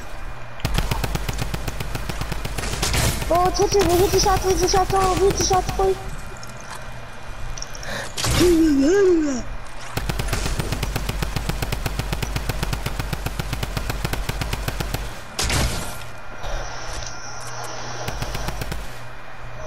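Sustained bursts of rapid automatic gunfire in a first-person video game, loud and nearly continuous with short pauses, while people talk over it.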